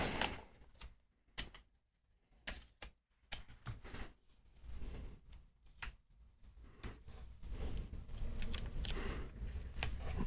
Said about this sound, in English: Let's put some tape on this too.